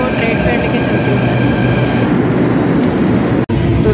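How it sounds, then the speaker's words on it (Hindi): A Delhi metro train pulls into a station, its steady loud rumble and hum filling the platform, with a brief cutout near the end. "इधर ये मेरी मेट्रो आ चुकी है"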